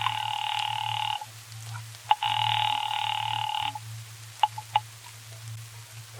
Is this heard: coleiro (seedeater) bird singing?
no